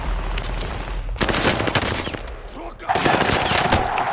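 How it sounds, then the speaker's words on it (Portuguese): Rapid bursts of automatic gunfire in a multiplayer shooter game, loud, dense crackling volleys that break off briefly and then resume, with a few game voices mixed in. "O amigo dele atirou com ele."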